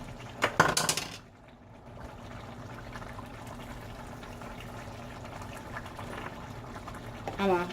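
A pot of cabbage and greens simmers on a home stove, giving a steady low bubbling after a short clatter at the start, with a brief clink near the end.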